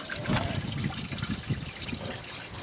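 Gray water drains from an RV tank after a newly replaced sewer valve is pulled open, a continuous rushing, gurgling flow close by with small splashy surges, no talking.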